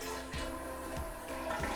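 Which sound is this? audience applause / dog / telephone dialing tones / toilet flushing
toilet flushing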